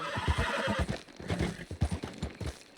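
A horse in the video game Red Dead Redemption 2 whinnies loudly while its hooves clop in quick, uneven beats close by, with no one speaking.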